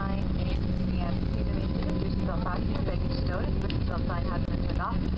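Steady, loud roar of a passenger airplane during its landing roll after touchdown, a constant broadband rumble with engine whine filling the cabin, while voices talk faintly underneath.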